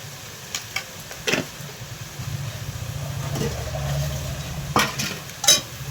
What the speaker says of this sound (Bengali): মশলাটা কিছুক্ষণ ভাজা ভাজা করে নিই